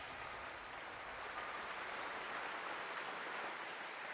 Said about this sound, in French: Mais on applaudit, on applaudit.